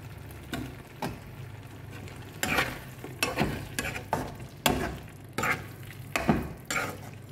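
Chillies frying in a pan, a low constant sizzle punctuated by regular scraping strokes of a spatula every half second or so, close and fairly quiet, with no talking.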